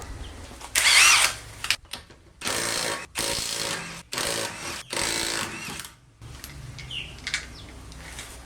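An impact wrench removing a wheel from a Lexus LS400 buzzes in several short bursts separated by brief pauses, loud and close, with a high-pitched squeal in the first burst.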